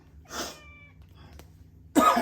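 A cat near a barbecue, pestering at someone's leg, gives two short raspy meow-like cries about a second and a half apart, close by in an otherwise quiet space.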